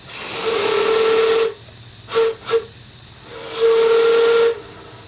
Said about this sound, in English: always remember to blow the whistle